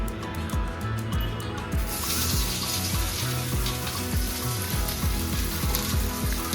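Onion hits hot oil for a Konkani-style crab masala and sizzles loudly and steadily, a dense, close frying hiss with faint utensil clicks running underneath.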